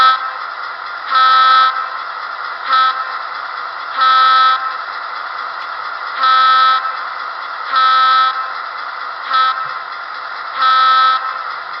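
An HO scale NW2 switcher model train sounds its grade-crossing horn pattern: loud, close, steady two-tone blasts in a long-long-short-long rhythm, repeated twice with brief gaps, no talk.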